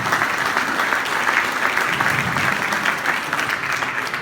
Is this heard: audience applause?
yes